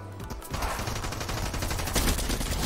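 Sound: gunfire from a weapon in the video game Fortnite

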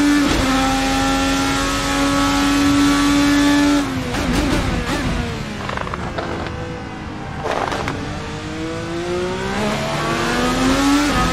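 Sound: 1000 horsepower IndyCar engine accelerating in racing video game

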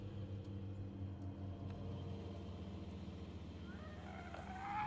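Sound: car driving close behind

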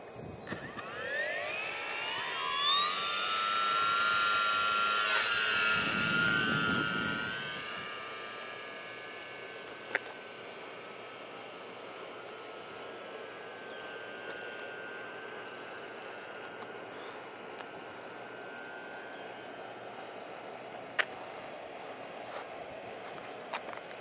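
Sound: model airplane engine in flight

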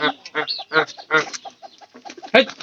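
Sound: chicken clucking

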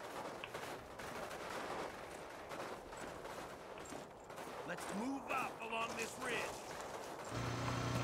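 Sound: gunfire in video game Call of Duty: United Offensive

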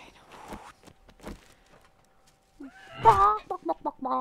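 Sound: chicken clucking in a video game

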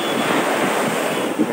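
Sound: ocean waves and wind at Teluk Batik beach

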